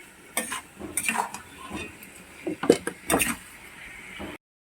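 Chicken for a home-style recipe frying in a pan while a utensil stirs and scrapes it, giving uneven clinks and scrapes over a low sizzle; the sound stops abruptly near the end.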